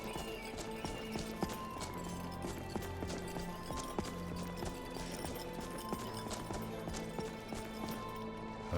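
A horse's hooves clip-clop in an open-world game, a rapid irregular clatter of hoof beats over ambient music and background rumble, moderately close.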